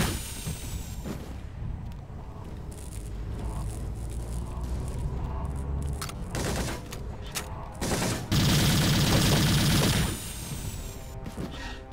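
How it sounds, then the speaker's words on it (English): A six-barrel Gatling assault rifle fires in a sci-fi shooter, a continuous rattling stream of rapid shots with a louder, denser burst near the end, mixed with game background noise. "Let me aim this six-barrel Gatling assault rifle at your head. Hold down the trigger"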